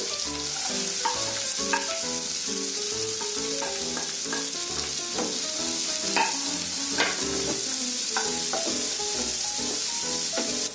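Chopped capsicum and peas being stir-fried in a pan for an aloo matar masala filling, a steady close sizzle with regular scraping and stirring strokes all the way through.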